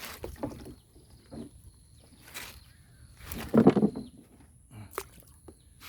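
A rowboat being paddled on water, with a few soft strokes and splashes and one louder, closer splash partway through, under faint outdoor ambience and no talking.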